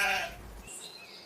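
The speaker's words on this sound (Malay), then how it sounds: "Ia ternampak seekor anak biri-biri yang berjalan pergi dari kawanannya." A lamb's bleat, one drawn-out wavering cry that is fairly loud and close, used as a sound effect in a story about a lamb straying from its flock, with quiet bird-like chirps after it.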